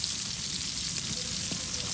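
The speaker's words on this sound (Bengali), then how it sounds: "দেখেন আমাদের মাছ ভাজা হয়ে গেছে" Fish fries in hot oil in a pan. The close, steady sizzle and crackle holds for the whole moment, with no voices.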